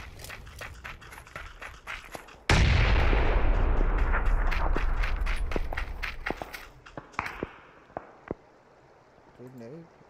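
A grenade goes off in a video game with a sudden loud, close boom, then a long rumbling decay, amid scattered in-game footsteps and sharp clicks.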